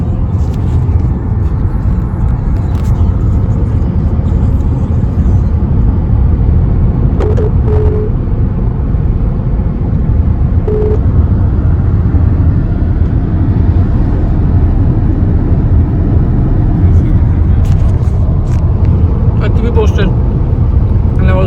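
A car drives along a German highway, a loud continuous rumble of engine and tire noise heard from inside the vehicle, steady throughout with occasional faint clicks and no talk.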